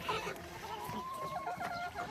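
In a snowy garden, a mixed backyard flock of hens, some Brahma crosses, clucks and chatters near and far with short, uneven calls, while a rooster is among them.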